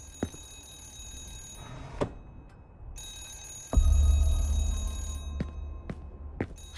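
A telephone behind a locked office door in the horror game Remothered rings in repeated bright bursts over a low rumbling background, with no one speaking.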